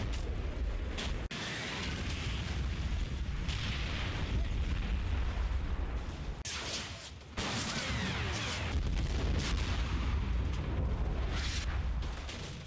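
A 4.5-inch artillery strike landing in Combat Mission, a Normandy battle game, with several shells going wide: a rumbling barrage of heavy booms and blasts over continuous low battlefield roar, with sharp impacts at intervals.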